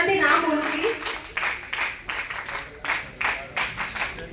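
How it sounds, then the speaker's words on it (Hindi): An audience at an Agra seminar and awards ceremony on Mahatma Buddha claps to welcome guests: steady, fairly loud rhythmic hand claps in repeated bursts, with a brief voice at the start. "तालियों के साथ स्वागत"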